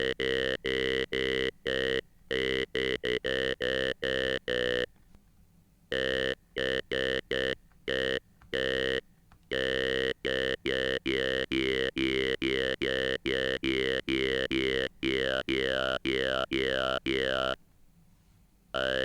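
Argon synth app on an iPhone producing a vocal-like, buzzy tone in short rhythmic gated bursts with shifting formant-like sweeps, steady and close, brief gaps between notes.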